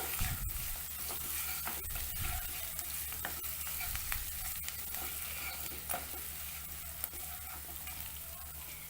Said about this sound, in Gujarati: તો બધું કોપરું ઉમેરી દીધું છે હવે સેજ આપણે આપણા વઘારને મિક્સ કરી લેશું